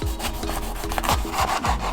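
A dull kitchen knife saws and rubs through food in a tiny house kitchen, a close series of rough back-and-forth scraping strokes with no talking.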